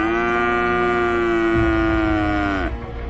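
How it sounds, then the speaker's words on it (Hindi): A cartoon cow gives one long, loud, drawn-out moo that holds a steady pitch and then bends downward before cutting off. It is close and sounds alone, with no talking. "उसकी गाय क्यों रंभा रही थी"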